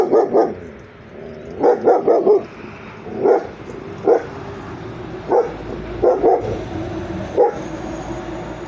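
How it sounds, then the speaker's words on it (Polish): Repeated dog barks, fairly close, come in irregular clusters of one to three over several seconds with short pauses between. "mój pies się odezwał"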